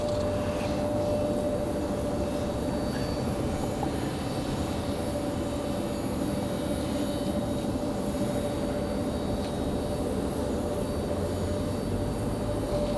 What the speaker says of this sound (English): We've got an exec jet ready for departure over here.